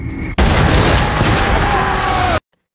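A grenade detonates in the monster film Monster Hunter (2020), a sudden loud blast that roars with dense rumble for about two seconds before cutting off abruptly into silence.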